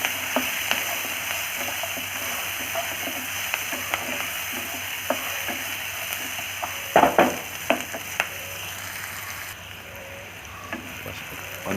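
Onion and chopped green chili frying and being stirred in a pan for a brinjal masala, a steady close sizzle with intermittent scraping clicks of the spoon throughout.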